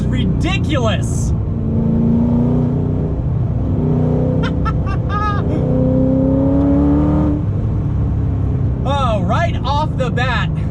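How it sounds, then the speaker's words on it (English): Inside a 2006 Ford GT with a manual transmission, the loud V8 pulls through several rising accelerations separated by gear changes, a constant heavy engine rumble, while someone speaks in short bursts over it. "manual transmission, crazy loud V8, that is a joy of a soundtrack to listen to"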